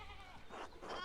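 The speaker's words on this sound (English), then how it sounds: "we need to get these sheep under control" Faint sheep bleating in the video game Pentiment, two quavering bleats in quick succession over a low background hum.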